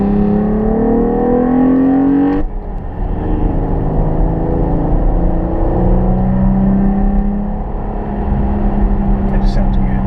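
A 2013 Dodge Durango V6 fitted with a K&N cold air intake, driven at part throttle, gives a steady, loud engine drone with a brief rising rev early on, heard from inside the car with people talking over it.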